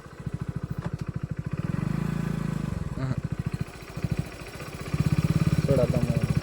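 A motorcycle engine putters at a fast pulsing idle, then revs up and eases back as the rider lets out the clutch, revving again toward the end, with people talking over it close by.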